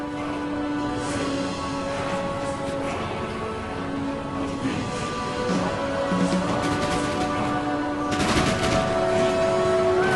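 Line infantry exchange musket fire in a strategy video game battle, a dense, continuous crackle of overlapping shots with no pauses, loud and busy throughout, backed by steady game ambience.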